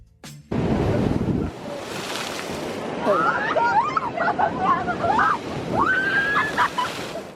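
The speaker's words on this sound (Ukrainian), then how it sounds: "все, що ти чуєш, це просто звуки моря" Sea waves wash onto a beach on Crete, a steady roar of surf under gusty wind, with faint distant voices and babble drifting through the background.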